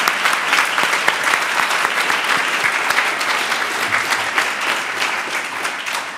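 Steady, dense audience applause at a Natura 2000 award ceremony in Greece, loud and continuous throughout with no talk over it.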